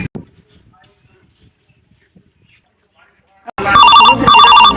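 A telephone rings loudly in repeated bursts near the end, after a quiet stretch with brief faint speech.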